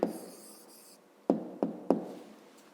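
A pen writes an answer on paper: a quiet, faint scratchy stroke at the start, then three short tapping strokes close together, heard alone near the microphone.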